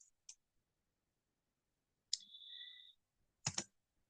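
Sparse clicks from a computer keyboard as a STATA command is entered, a couple of isolated taps, then a click with a brief thin tone, and a final louder double click in an otherwise silent room.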